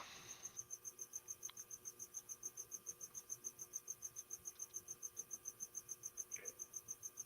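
A cricket chirps in a fast, perfectly regular pulse, each chirp evenly spaced and fairly soft, continuing alone against a quiet background with a faint hum.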